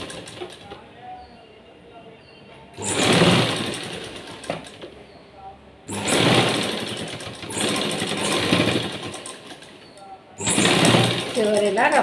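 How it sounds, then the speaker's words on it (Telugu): A sewing machine stitches along a blouse hem in three separate runs of steady, whirring mechanical chatter, with quieter pauses between them and someone talking. "అంచు మీదనే కుట్టు వేసుకోవాలి"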